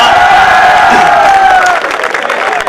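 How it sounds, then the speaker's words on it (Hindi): Audience at a Hindi poetry recital (kavi sammelan) bursts into loud, sustained applause mixed with cheering and whoops, filling the hall continuously before easing slightly toward the end. "एक बार मैडम जी के लिए ताली बजा दो।"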